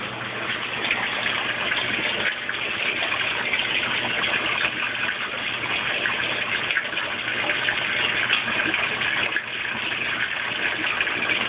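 Water pours steadily into a Kenmore Oasis washing machine tub during a fill cycle, a continuous broadband rushing gush with a low hum beneath, loud and unbroken with no talking.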